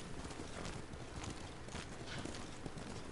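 Rapid clip-clop of horse hooves trotting steadily in the video game Ghost of Tsushima, busy and continuous, with a faint whinny-like tone in the mix.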